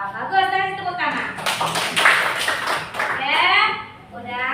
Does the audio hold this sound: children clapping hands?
yes